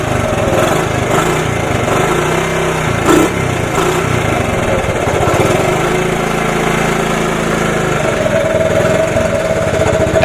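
A 1983 Honda ATC 70 three-wheeler, its small engine running after a cold start following more than ten years unused, a loud, close, steady buzzing putter that rises slightly toward the end, with no talking.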